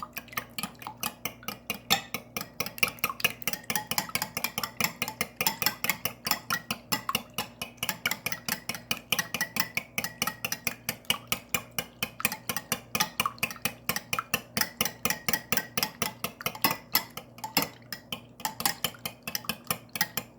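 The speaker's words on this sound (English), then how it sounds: "I'm going to whip it up. Got a whisk here." A metal whisk beating scrambled eggs in a bowl, with fast and steady rhythmic clinks against the side that continue without a break and sit close and clear.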